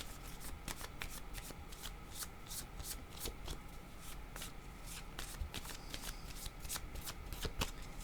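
Tarot cards being shuffled by hand for a reading, a quiet, close run of rapid riffling flicks repeating in steady bursts with no voices.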